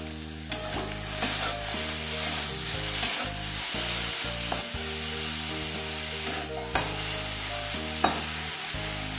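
Eggplant fries in a covered pan, giving a steady, close sizzle with a few sharp clinks, all under a background of tonal, music-like sound.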